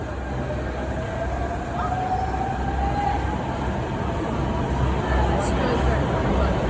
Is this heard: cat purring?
no